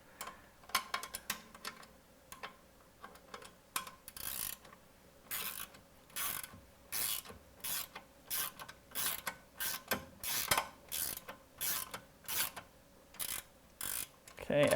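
Bolts are tightened on a robot intake base with a ratchet, in repeated short bursts of rapid clicking separated by brief pauses, close and fairly quiet.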